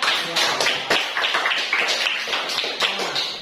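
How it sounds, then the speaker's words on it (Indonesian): Applause for a student group at an Indonesian class presentation on prayer and remembrance, a dense run of clapping with sharp irregular taps that holds steady and close for the whole stretch. "beri aplaus dulu untuk kelompok"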